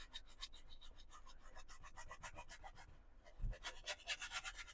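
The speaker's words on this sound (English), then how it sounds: "all I'm doing is scrubbing on a little bit of brown" A brush scrubs brown paint onto a canvas in a series of close, dry rasping strokes with a steady back-and-forth rhythm, ending in a few quicker, louder scrubs.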